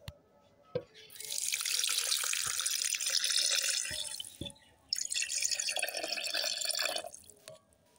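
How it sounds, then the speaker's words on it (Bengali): Thickened milk poured into a blender over dragon fruit and sugar, splashing in two steady streams with a short break between them and quiet moments at either end. "তো এখন দিয়ে দেব দুধ"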